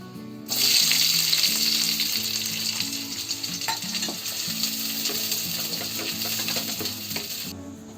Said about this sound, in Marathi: एक मिनिट मी कांदा फिरवून घेतलाय तेलामध्ये.